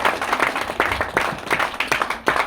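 An audience at a hotel training program claps together in a loud, dense burst of applause. The clapping comes in uneven surges that rise and fall steadily for a couple of seconds.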